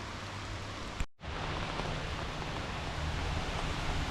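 Steady rain pours down in a dense, even hiss, broken by one brief drop-out near the start before the downpour resumes, in the Carpathian mountains.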